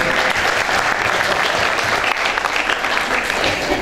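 An audience at a university extension seminar claps in sustained, dense applause, loud and steady throughout with no one speaking over it.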